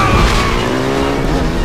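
Cars in a Bourne Legacy chase scene through dense Metro Manila traffic screech with skidding tires over a loud engine roar, a dense continuous squeal close up for the short moment.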